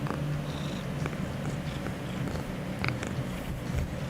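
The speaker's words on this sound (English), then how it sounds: "Can they hear you purring?" A cat purrs softly and steadily, close to a microphone, with a low continuous rumble and faint background sounds layered over it.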